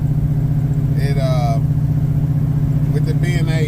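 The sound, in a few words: 1978 Chevrolet Malibu with 383 stroker engine driving and shifting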